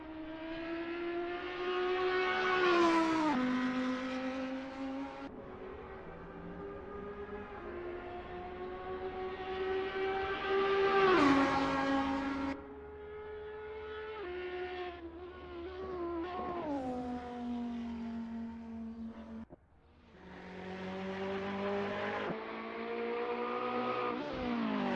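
Audi GT3 race cars circling Monza in a racing game, engines loud and close with rising harmonic revs, sharp gear-change drops and repeated pass-bys that swell and fade across the whole stretch.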